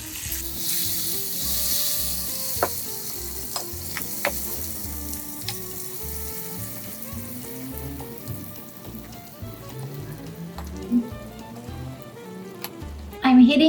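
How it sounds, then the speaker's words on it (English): Butter stirred into hot caramel in a pan during crepe making, a continuous crackling sizzle with occasional scraping clinks from mixing, under soft background music, with a louder burst near the end. "now I'm adding a half cup of butter. And I'm mixing well."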